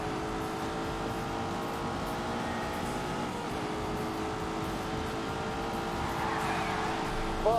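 Car engine in The Grand Tour racing video game, a steady droning whine holding fairly constant pitch while drifting, with a brief rising squeal near the end and no speech over it.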